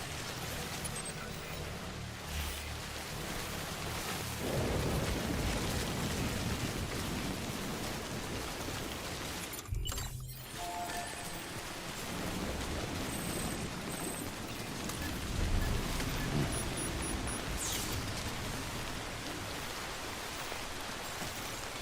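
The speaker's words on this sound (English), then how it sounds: "Damn rain won't quit." Steady rain pours throughout a stormy scene in the video game Death Stranding, a dense even hiss with a sharp crackling burst near the middle that may be thunder.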